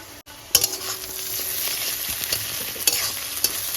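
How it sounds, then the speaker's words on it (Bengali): Onion, garlic and chilli fry in a pan with a steady close sizzle, broken by a few sharp scrapes and stirs of a spatula, and no talking. "এবার পেঁয়াজ রসুন লঙ্কা খুব ভালো করে ভেজে নেব"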